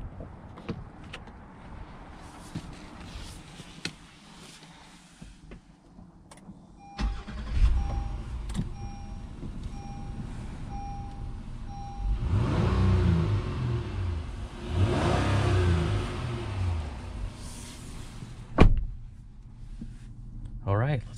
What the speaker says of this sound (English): let's go ahead and take this 2021 Honda Passport on a test drive and see how it does